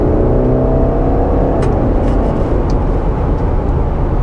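A 2022 Subaru Outback Wilderness with a CVT transmission accelerating steadily, a continuous loud engine drone and road roar with no gear-shift breaks, heard from inside the car.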